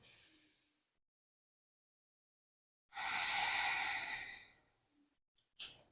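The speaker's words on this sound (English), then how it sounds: "we're going to breathe from the belly up to the chest, and then we're going to exhale through the nose" Slow breathing through the nose during a yoga session, one long, fairly loud, airy breath after a quiet pause, then softer short puffs near the close.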